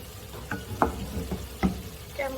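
Salmon butter masala being stirred in a pan, the rendered masala sizzling softly with a few scraping stir strokes at an irregular pace, close and fairly quiet with no talking.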